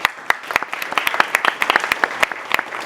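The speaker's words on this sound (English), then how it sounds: "please give yourselves a round of applause" Brief burst of applause from an audience at a screenwriting awards ceremony, sharp scattered claps in a quick uneven patter, fairly close and moderately loud, with no talk over it.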